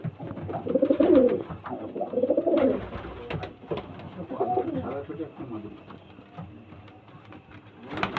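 Domestic pigeons kept for sale coo in a cluster of throaty calls near the start, then quieter murmuring continues, with faint talking and a few light knocks in the background.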